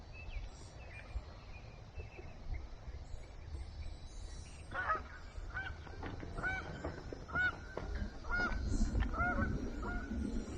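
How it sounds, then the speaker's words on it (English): Canada geese honk outdoors near garden beds being dug, a scattered series of nasal calls at moderate distance over low wind and rustling background noise. "Canadian geese."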